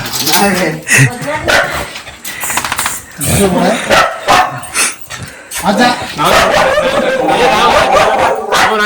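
A pack of village dogs in the Konkan countryside barks and yelps at visitors arriving, nearby and loud, in repeated bursts mixed with people talking.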